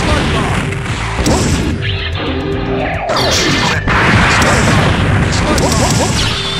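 Repeated crashing blasts and whooshing impacts of Spark Bomb explosions in a Kamen Rider Zolda versus Iron Man fight in the game MUGEN, loud and continuous, with bursts overlapping and a voice calling out faintly.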